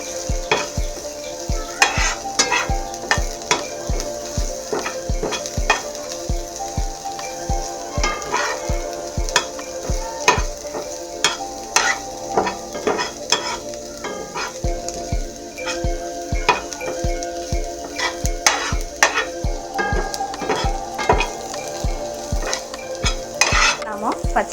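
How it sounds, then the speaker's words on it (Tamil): Onion, carrot and cabbage stir-fry for paneer fried rice, with a soft sizzle under frequent scraping and clattering of a spoon against the pan, close and steady throughout, and no talking. "இப்போ ஆனியன் ஓரளவுக்கு வதங்கின பிறகு நாம் கேரட்டையும் கேபேஜையும் போட்டு ஃப்ரை பண்ண போகிறோம்."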